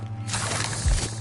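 The Incendio fire spell is cast in Hogwarts Legacy, a sudden whooshing burst of flame that swells up against a low steady hum, with a heavier rumbling thump near its end, all within a short moment.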